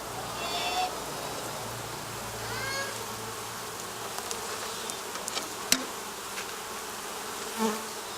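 Honey bees buzz steadily on a frame of mostly sealed brood while a beekeeper splits feral colonies into nucs, a dense continuous hum with occasional sharper knocks and rustles.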